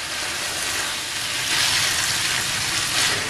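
Onions frying with tomato paste and sugar, a loud, dense continuous sizzle that swells briefly as the pan is stirred.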